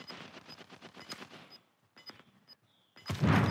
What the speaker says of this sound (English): Shooting going on here.